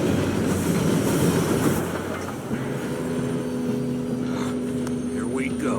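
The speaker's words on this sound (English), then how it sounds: "Train should be here any minute now." A train rumbles past in the video game Red Dead Redemption 2, a heavy continuous clatter of rail wagons that eases into a steady hum with faint squeals and game sounds.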